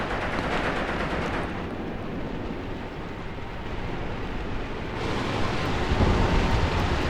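Continuous battle noise from a World War II tank game set in Tunisia in 1943, with enemy tanks rolling across a meadow firing machine guns. A dense, steady rattle and rumble runs throughout and grows louder near the end.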